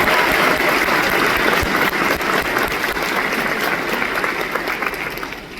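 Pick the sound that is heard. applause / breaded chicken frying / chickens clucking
applause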